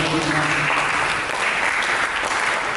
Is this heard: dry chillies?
no